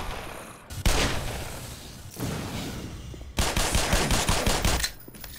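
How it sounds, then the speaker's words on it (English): Rapid machine-gun fire in the video game Black Mesa: loud, dense bursts of automatic shots, one short volley then a longer sustained stream after a brief pause, with no talk over it. "Rapid fire."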